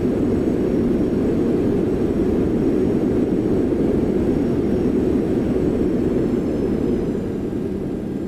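A steady, loud low roar from Boeing 737-800 engines with thrust reversers in X-Plane, continuous and unbroken throughout.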